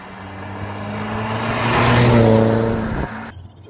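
A Ford Focus ST diesel estate's engine drones steadily and swells louder as it revs up near the middle, then cuts off abruptly, with a low, steady hum underneath.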